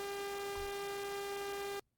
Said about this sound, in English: Let's try a sawtooth wave.